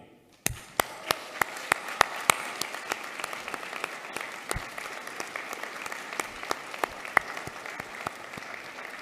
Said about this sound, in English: can you thank them by clapping?